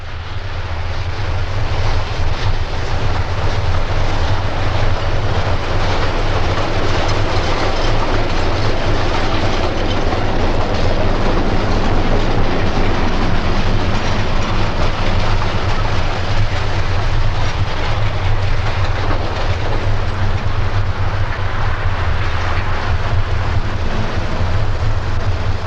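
Locomotive running light on the South Shore interurban railway, heading east toward Gary, Indiana: a loud, steady rumble of engine and rolling wheels with rail clatter, continuous throughout at close range.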